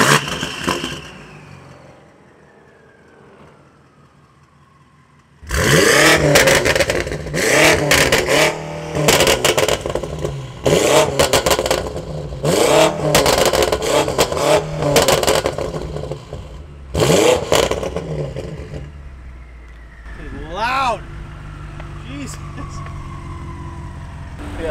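A BMW M5 with exhaust clips revs hard in repeated bursts, a loud rasping engine with turbo whoosh and clattering pops between pulls, driving close by after a quieter idle, with some talk over it.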